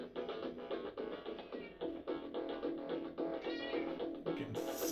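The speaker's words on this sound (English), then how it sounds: "Cat, I hear you." A cat meows repeatedly up close, a string of short, insistent cries in quick succession with no talking.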